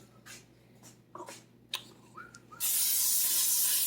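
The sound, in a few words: cooking spray sprayed onto a hot pan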